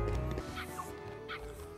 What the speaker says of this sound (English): Aw, puppies.